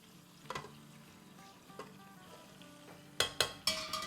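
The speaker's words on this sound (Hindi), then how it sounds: "बस अब इनको तो हमें 1 आध मिनट ही भूनना है" Meat and masala frying in a pan for pressure-cooker nihari, a quiet steady sizzle with a few soft stirring scrapes, ending in three sharp, loud clanks of a utensil against the pan.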